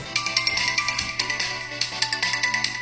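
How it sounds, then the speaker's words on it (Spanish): A mobile phone in a classroom plays a musical ringtone with a bright, rhythmic melody of repeating pulses. It sounds close and clear, with nobody talking over it. "Cuando le suena el teléfono a la profesora"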